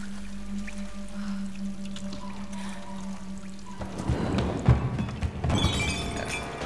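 A waterfall in the Tomb Raider video game roars as a steady rushing wash of water, swelling louder and more splashy toward the end.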